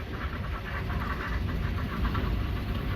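Vintage prairie tractors, including a big Ford, rumble past at a tractor show in Crosby, a continuous low engine drone with a chugging pulse, fairly close and steady with no talk.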